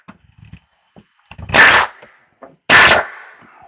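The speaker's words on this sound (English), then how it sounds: "The only thing you really got to worry about with your nail gun is just angle it backwards a little bit" Pneumatic nail gun firing twice into chair rail trim for an accent wall, two sharp loud bangs about a second apart with faint handling noises in between.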